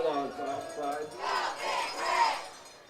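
Cheers and shouts rise from a homecoming crowd at a Friday night high school football game between Riverton and Rawlins, a swelling wave of voices that grows louder toward the end.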